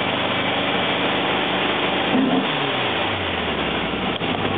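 A car engine held at around 3,000 RPM, running a little rich, gives a steady loud mid-pitched drone with a slight rise partway through, close up and without talk.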